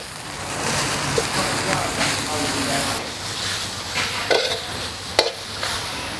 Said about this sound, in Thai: ต่อไปใส่เห็ดลงไปผัดนะคะ